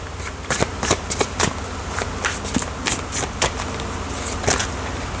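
Tarot cards being shuffled by hand, a run of quick, crisp riffling flutters and soft slaps at close range, with no talking over them.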